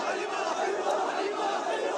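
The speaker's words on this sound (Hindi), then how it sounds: "प्रदर्शनकारियों की भारी भीड़ सड़कों पर उतर आई और नारेबाजी करने लगी।" A large street protest crowd in Srinagar, Kashmir, chants slogans in a dense, continuous roar of many voices, loud and sustained throughout.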